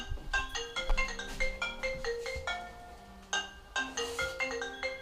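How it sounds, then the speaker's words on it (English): An iPad ringtone plays in a kitchen, a bright melodic chime pattern of repeated tonal notes that pauses briefly and starts again, moderately quiet against light room noise. "my iPad's still ringing, which is hilarious"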